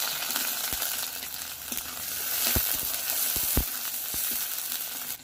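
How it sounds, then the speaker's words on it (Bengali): Onions fry in oil in a wok with a steady close sizzle, broken by a series of sharp spatula knocks and scrapes against the metal. "পেঁয়াজগুলো ভেজে নিয়েছি"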